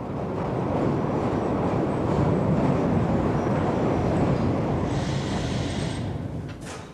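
An original little red Glasgow Underground train from the 1970s, running on the old 6.5-mile circle line: a loud, continuous rumble and rattle of wheels in the tunnel, with a brief squeal near the end.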